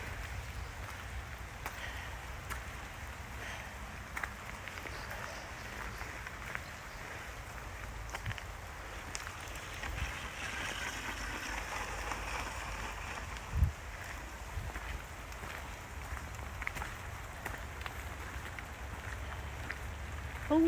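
Rain pours down outdoors in Scotland, a steady broadband hiss of drops on surfaces, constant and moderately loud with a few small knocks.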